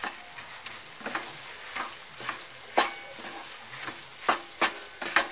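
Leftover dal and rice being stirred in a pan over high flame, with repeated scraping strokes of the spoon against the pan over a soft steady sizzle, no voices.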